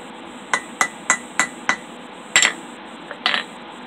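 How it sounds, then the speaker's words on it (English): Hammer tapping a horseshoe nail to wrap it into a prairie ring at a forge, about half a dozen sharp, bright metallic strikes in a steady rhythm, then a pause and two more taps, close and clear. "I'll take my hammer and I'll finish wrapping it."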